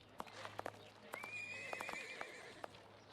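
A horse in Sherlock Holmes Versus Jack the Ripper whinnies in a long, high, wavering call, with sharp hoof clops scattered around it; fairly quiet and close.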